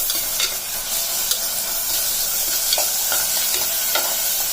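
Onions sizzle and fry in a pan with ginger garlic paste, a steady close hiss broken by repeated light scraping and stirring clicks, with no talking.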